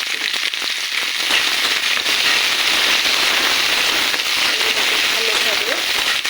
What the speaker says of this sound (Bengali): ভালোভাবে ভেজে নেব পাশাপাশি।